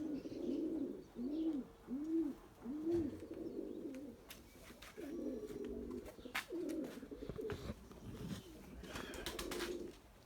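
A male white pigeon coos in repeated rolling phrases, several bursts in a row with short gaps between them, close by and moderately loud over faint outdoor background noise.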